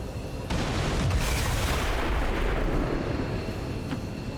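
A heavy rumbling explosion in the video game XCOM 2 with a sharp onset, sustained roar and booms fading slowly, with no voices.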